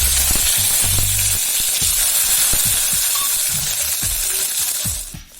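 Shallots fry with mustard seeds in hot oil, giving a steady loud sizzle and hiss with scattered crackles and pops throughout, fading slightly at the end.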